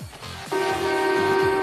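A sustained vehicle horn blares steadily over low rumbling traffic noise on a congested street with a passing train, loud and close, holding one pitch for over a second.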